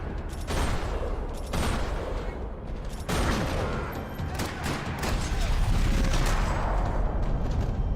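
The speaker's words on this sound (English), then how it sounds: "Another parking lot rattling with gunfire." Rapid bursts of gunfire rattle through a parking lot in the video game Max Payne 3, with several sharp volleys and booming shots over a continuous, dense, noisy background.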